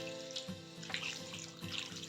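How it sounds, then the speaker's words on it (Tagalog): Water runs from a tap or is poured into a pot of chicken and potatoes being cooked for afritada, a steady close splashing stream lasting the whole moment with a few louder gurgles. "Nya karon magbutang tag tubig para muhumok ang ato ang patatas nga gibutang."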